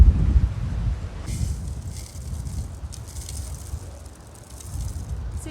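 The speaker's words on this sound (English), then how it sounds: "We're going to use the wind to clean my seeds." Seeds being winnowed outdoors in the wind to blow away chaff and debris, heard as a low rumbling wind buffeting the microphone with soft rustling and scattered light patter over several seconds, no talking.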